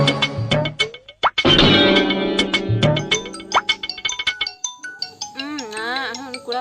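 A phone ringtone plays a bright, bouncy melodic tune loudly for several seconds, with warbling notes near the end, in a Santali comedy sketch.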